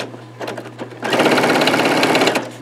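A sewing machine back stitches a T-shirt quilt: a brief stuttering start, then a loud, steady, close-up whir of stitching for over a second before it stops.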